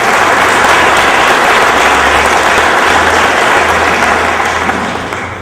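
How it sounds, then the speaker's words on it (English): Audience applause at a United Way fundraising meeting, a loud, dense, sustained roar of many people clapping together in a large room, holding steady before tapering off slightly at the end. "Let's give them a round of applause."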